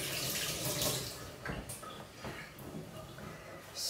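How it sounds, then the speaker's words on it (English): Tap water running steadily into a sink while hands are washed in a home soap-making workshop, a soft continuous splash with faint handling noises. "Oh, wash my hands."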